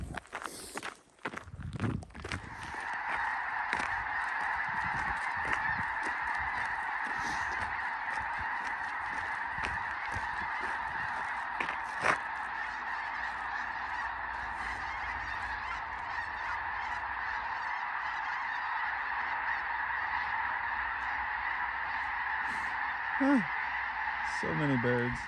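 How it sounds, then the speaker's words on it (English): Many geese honk together in a steady, continuous chorus on a cold November morning along a trail, with crunching footsteps close by at the start and end. "So many birds."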